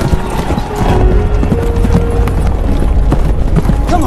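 Horse hooves clip-clop steadily on hard ground with a brief whinny, close and loud, in a World War I cavalry training setting with other horses nearby.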